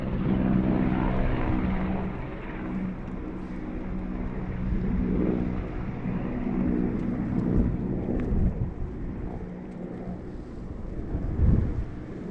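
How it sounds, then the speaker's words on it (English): A low, rumbling engine drone from a helicopter passing overhead, steady and broad, rising and falling slightly with no voices. "Helicopter."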